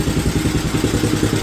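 An International Cub Cadet garden tractor engine settles back to a steady idle, its low, even chugging close and continuous with a faint clattering rhythm and no other sounds.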